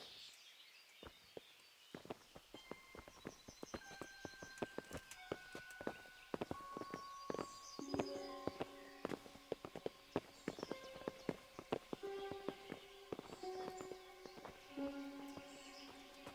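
Rhythmic clip-clop of horse hooves walking in the video game Kingdom Come: Deliverance, hard hits with a game-like echo, under soft musical tones and occasional distant calls.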